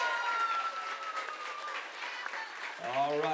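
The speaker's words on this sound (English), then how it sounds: "please put your hands together one more time for the newlyweds" Applause from a wedding reception audience for the newlyweds, a broad continuous clatter of clapping that runs steadily throughout, with a voice rising over it near the end.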